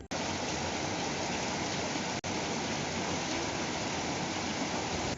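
Evening rain pouring down in a village, a dense, loud, unbroken hiss of falling water close by, steady throughout without any voices.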